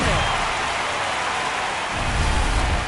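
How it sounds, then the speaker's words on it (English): Heavy rain pours steadily in the MLB The Show 26 baseball video game, a dense, constant hiss that swells louder near the end, with low rumbling underneath. "the field's not going to be able to hold up if the rain gets any worse than this"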